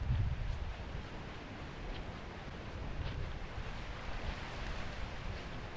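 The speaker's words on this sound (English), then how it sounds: "See the waves getting blown back over as they're cresting," Hawaiian ocean surf crests and is blown back by strong wind, a steady broad roar of waves mixed with gusty wind noise, moderately loud and continuous without speech.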